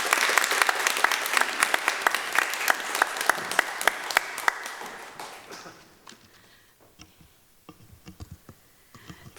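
A church congregation applauds steadily, a dense patter of many hands clapping that fades out after several seconds, leaving a few scattered claps.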